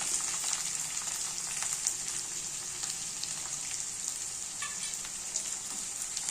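Onions, carrots, chilies and ginger fry in a pan for upma, a steady bright sizzle running evenly throughout with faint stirring clicks and no talking.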